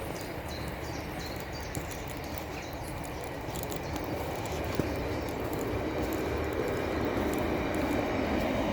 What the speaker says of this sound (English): Oh, I can hear a train coming.